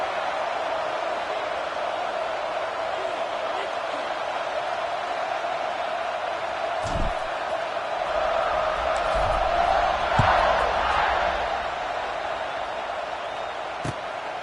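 A stadium crowd at a college football game before kickoff makes a steady wash of distant cheering and murmur that swells briefly near the middle, with a few thumps and no clear voices.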